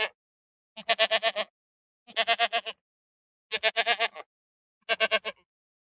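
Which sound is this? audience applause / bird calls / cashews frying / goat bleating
goat bleating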